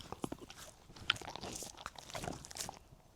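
A dog gnaws a dental chew stick close by, with a run of crisp, irregular crunches and bites that carry on for several seconds with no talking.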